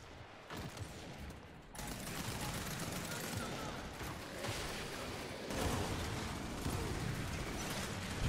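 Gunfire rattles through Gears 5 ranked gameplay as dense, continuous bursts of shots and blasts, loud and sustained across the whole stretch with brief dips between volleys.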